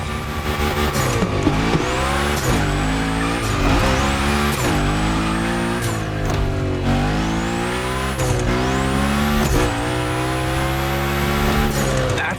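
A race car drifting in The Crew Motorfest, engine revving up and down with repeated rising gear pulls while long tire squeals and skids sweep over it, loud and close.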